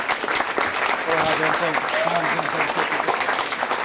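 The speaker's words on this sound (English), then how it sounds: "let's give a round of applause for our sponsors" Steady applause from a breakfast crowd at a St. Patrick's Day Grand Marshal event, honoring the sponsors, dense and sustained throughout with a few voices mixed in.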